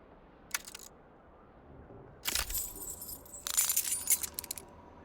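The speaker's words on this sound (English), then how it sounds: "You hear a jingle. Keys are clinking in the pocket of your flare-cut pants." Keys clinking in a trouser pocket in the video game Disco Elysium: a brief metallic jingle, then two louder, denser bursts of rattling keys, close and clear, with no talk.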